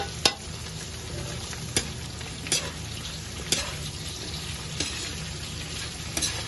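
Chicken feet, already boiled soft, being sautéed with ginger and onion in a pan for ginataang papaya: a steady sizzle runs throughout, broken by sharp utensil scrapes and clacks every second or so as the pieces are stirred.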